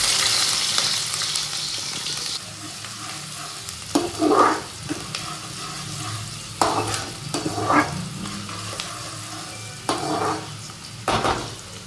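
Onions dropped into hot oil frying in a pan, a steady background sizzle with louder bursts of crackle and stirring at intervals, close and without talk.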